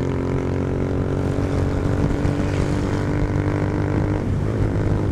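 A Honda CG 150 Titan motorcycle engine running while being ridden, a loud, steady droning hum with constant tone throughout and no speech.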